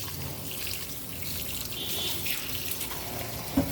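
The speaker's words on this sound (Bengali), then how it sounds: "দুই পট ডাল এখন আমি ধুয়ে পরিষ্কার করে নিব" Two cups of mixed lentils, including khesari and urad dal, being rinsed under running tap water for vegetable khichuri, a steady close splashing and trickling with a brief clink near the end.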